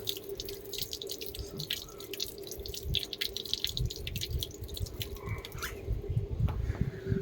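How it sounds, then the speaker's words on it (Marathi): Fresh lemons being rinsed under running water, a steady close splashing and trickling with drips throughout, no voices. "थोडं वॉश करायचं याला, थोडं पाणी मारायचं."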